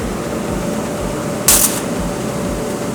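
Arc welding with a Spartus Easy Arc 205 stick welder running a 4.0 electrode at 200 amps: a steady, close crackling hiss throughout, with one brief louder burst midway, and no talk.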